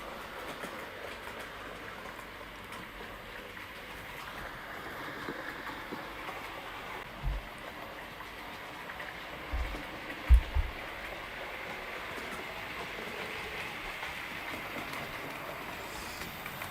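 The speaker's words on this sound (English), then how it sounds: "You see the C-Class going up the hill now." A C-Class locomotive on a model railway climbs a hill, giving a steady low running hum and rail rumble with a few soft clunks partway through, heard from close by without talking.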